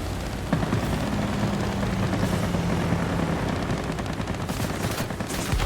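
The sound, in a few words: aircraft cannon fire in a video game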